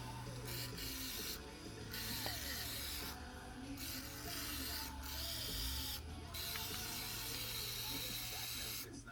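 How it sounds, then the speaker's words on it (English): Water spray rinsing parts of a 4 hp outboard motor fuel pump during a diaphragm gasket change, a steady hissing spray that runs continuously with brief pauses, close and fairly loud. "so spray this down"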